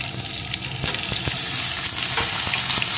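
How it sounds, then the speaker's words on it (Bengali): Pumpkin and eggplant pieces fry in a pan with a loud, dense, continuous sizzle, punctuated by repeated light knocks and scrapes from stirring. "কিছুক্ষণ ভেজে নিয়েছি এখন এর ভিতরে দিয়ে দেবো টুকরো করে কেটে রাখা বেগুন"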